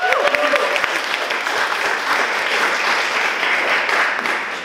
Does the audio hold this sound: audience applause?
yes